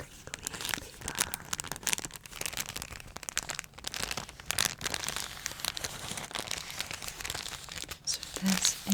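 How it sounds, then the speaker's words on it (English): Close, continuous crinkling of paper, dense crackly rustles rising and falling in intensity without pause, handled right up near the listener. "This is sound number 1. It is some crinkly paper."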